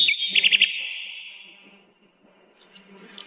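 A nightingale sings a brief, bright run of high chirps and trills, fairly close and clear, fading into near quiet with a few faint sounds at the end.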